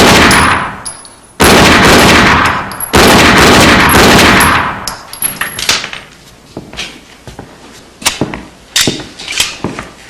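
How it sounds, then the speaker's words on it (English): Loud, sustained bursts of movie gunfire with ringing metallic tails, followed by scattered sharp shots and clanks that thin out toward the end; no one speaks. "Nice shooting"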